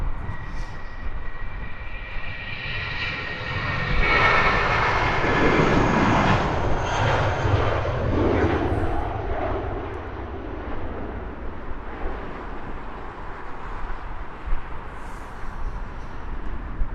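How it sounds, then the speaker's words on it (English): A narrow-body single-aisle jet airliner on its takeoff roll at Heathrow Airport, a broad rising engine roar that swells and peaks loud midway, then slowly fades into distant rumble. "Already rolling our next single aisle narrow body"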